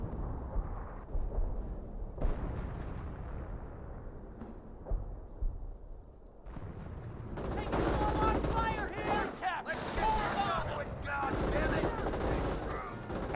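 Gunfire on infantry squads in Company of Heroes, with bursts of rifle and machine-gun fire crackling under a commentator's voice, the battle growing denser and louder in the second half.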